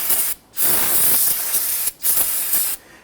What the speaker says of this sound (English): go ahead and use some spray solvent